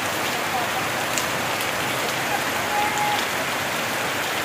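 Heavy rain pours onto surfaces in a constant, dense hiss that never lets up.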